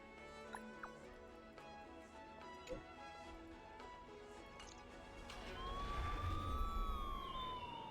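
An ambulance siren in a video game wails in during the last few seconds, rising and sweeping in pitch over quieter game ambience and scattered soft knocks.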